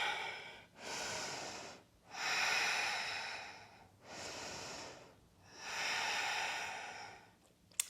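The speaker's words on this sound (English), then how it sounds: "Take 3 breaths here" Deep, slow yoga breaths taken while holding downward facing dog, heard as four long, loud alternating inhales and exhales with brief pauses between them and no talking.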